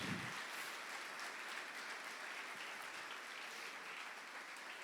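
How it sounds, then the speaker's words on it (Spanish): Church congregation applauding during a Spanish-language sermon, a steady wash of clapping that stays fairly faint and distant, holding evenly throughout without breaks. "Dale un aplauso de gloria."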